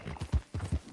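Horse hooves clip-clopping in Red Dead Redemption 2, a quick steady rhythm of soft thudding steps, close and fairly quiet, with no talk over them.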